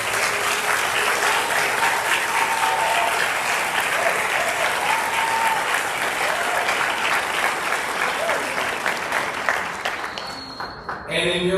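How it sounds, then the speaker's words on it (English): A large graduation audience gives sustained, dense applause for the college's educators and staff, a loud wash of many hands clapping that stays even for about ten seconds before thinning out at the end. "Let's give a round of applause to the Baruch educators and staff."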